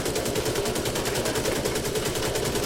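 Sustained automatic gunfire in The Division 2, a rapid unbroken stream of shots, loud and close, running throughout with no talking.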